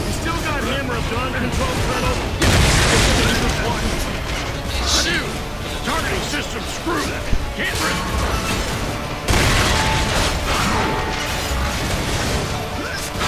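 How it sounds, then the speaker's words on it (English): Gears of War 3 battle explosions: a dense stream of booms, crashes and bursts over constant loud combat noise, with sudden surges of heavier blasts. "Just a billion explosions."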